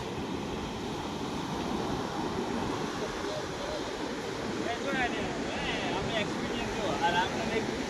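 Big ocean waves wash onto Dwarka beach in a constant broad roar with wind buffeting the microphone, swelling slightly near the end, with faint voices in the background.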